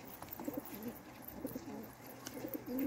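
Pigeons cooing near a new pigeon loft, several soft repeated coos in short bursts against a steady low background, with no talking.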